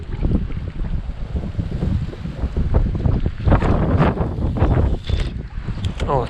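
Strong wind buffets the microphone on a lakeshore during fishing, a continuous loud rumble with gusts that swell midway, and faint water and movement noises beneath it.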